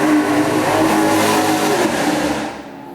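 Car racing around outside at 2 a.m., its engine revving loudly in a long, sustained roar that fades away near the end, heard from indoors with no talking.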